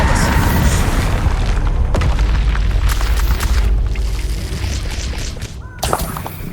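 A Confringo spell detonates in Hogwarts Legacy, a loud booming blast with a rumbling low-end body that fills the space before tapering off, ending with a sharp burst near the close.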